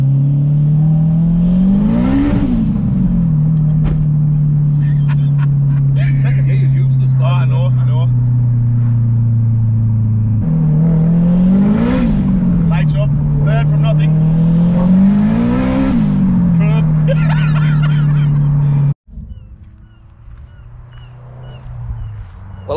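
A turbocharged 500 bhp Honda Civic Type R (EP3) revving and accelerating hard, the engine droning loud and close as it climbs through the gears, then cutting off abruptly to quieter road noise with faint talk.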